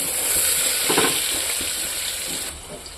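Onions with bay leaves fry in a hot pressure cooker pan, a bright continuous sizzle with clattering stirring strokes near the one-second mark, close and loud with no talk.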